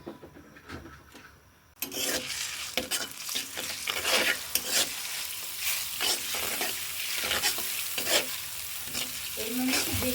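Raw parshe fish dropped into hot oil with a paste of salt, turmeric, cumin and garlic, for a curry with aubergine and potato: after a quiet start comes a sudden loud sizzle that keeps crackling, with scraping stirs close by.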